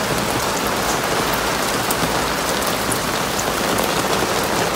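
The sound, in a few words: pouring rain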